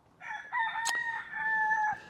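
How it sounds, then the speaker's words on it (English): A cockerel crows once in a long, drawn-out call, close and clear, with a brief sharp squawk partway through and a quiet outdoor background. "Thanks to the cockerel for greeting."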